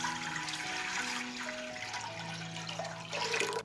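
Water, about 1.5 litres, is poured into a cooking pot for a bacon marinade: a steady, close splashing stream that lasts a few seconds and brightens near the end, with no talk.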